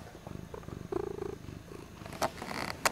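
Pet cat purring close by in a home, a soft rhythmic rumble pulsing for a couple of seconds before a few brief sharper noises follow.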